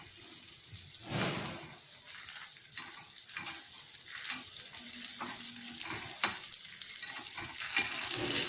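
Evening snacks fry in a pan over a medium flame, giving a continuous close sizzle with the scrape and clatter of stirring as the pieces are turned over and over.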